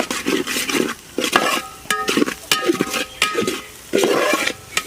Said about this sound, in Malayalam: ഇതൊന്നും കൂടി ഒന്ന് മിക്സ് ചെയ്യുക എല്ലാം കൂടി.